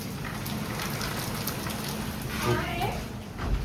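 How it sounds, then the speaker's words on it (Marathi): Heavy rain pouring outside during monsoon on the Konkan coast, a steady dense hiss of falling drops at moderate distance, with a voice briefly talking over it near the end. "खूपच पाऊस आहे बाहेर."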